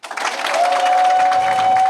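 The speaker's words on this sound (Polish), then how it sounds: "Wielkie brawa!" Loud, steady applause from an audience at a civic event honouring the city president of Bolesławiec, a dense wash of clapping that swells in quickly and holds, with a faint tone running beneath it.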